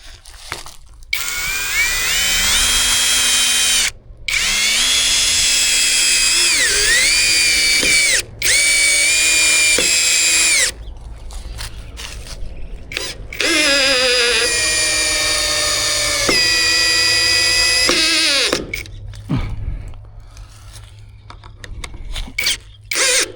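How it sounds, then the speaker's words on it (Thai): A MASARU three-way cordless drill drives a long size 8 screw, about two inches, in several loud whining bursts with pitch dips under load and short pauses between, close up, with no talking. "ทีนี้เราจะลองเจาะ สกูดอกยาวดอกใหญ่ดูนะครับ"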